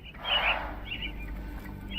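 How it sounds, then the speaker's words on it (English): Caged mynah birds give a single short, bright call up close, followed by fainter chirps over a low steady hum. "Minor birds, if I'm not mistaken. Beautiful creatures."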